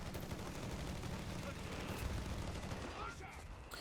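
Heavy machine gun fire in the Company of Heroes 3 video game sounds as a dense, continuous rattling battle texture, faint and steady, under a commentator's talk.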